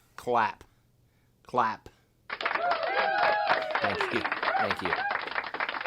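After a couple of brief spoken words, a group breaks into steady, dense hand clapping that carries on for several seconds at moderate loudness.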